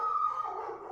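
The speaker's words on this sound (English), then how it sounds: "That is one loud puppy" A puppy lets out one loud, drawn-out howling bark that holds for about a second before trailing off, with no talk over it.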